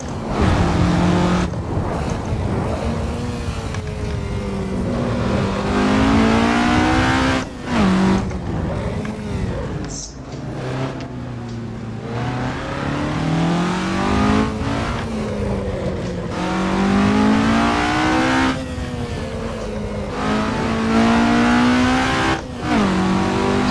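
A formula ground-effect race car in the Assetto Corsa racing game screams around the Monaco circuit, its engine note rising and falling steadily through shifts and corners, loud and continuous with no talk.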